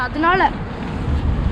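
Strong, cold wind outdoors in Canada buffets the microphone with a low, loud rumbling roar, while a voice speaks briefly at the start.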